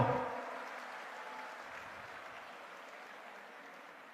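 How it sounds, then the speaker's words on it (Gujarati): Applause from a community gathering audience, a burst of clapping that starts loud and slowly tapers off over a few seconds, heard alone without talk. "એના માટે બી એક તાળીઓ પાડો"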